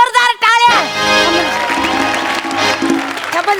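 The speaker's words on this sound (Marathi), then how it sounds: "जोरदार टाळ्या." An audience claps at a televised Marathi comedy show's award presentation, a sustained burst of applause with some crowd noise, following a brief loud vocal or musical sting at the start.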